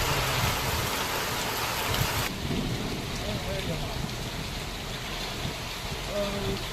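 Heavy rain pours steadily with strong wind, a dense, loud roar of water through which a low rumble of thunder may pass as roads flood.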